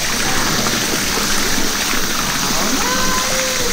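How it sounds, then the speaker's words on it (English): A waterfall at a private villa pool in Costa Rica runs steadily, a loud continuous splashing rush of falling water that stays even throughout. "And you can turn this waterfall on and off yourself."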